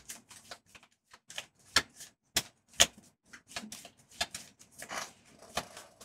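Game cards from a Gloomhaven board game deck are shuffled by hand, giving a series of quick, crisp riffles and taps in irregular bursts, close and fairly quiet.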